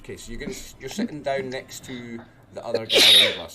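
A single loud sneeze bursts out after a stretch of someone talking, sharp and close, during a tabletop role-playing game session.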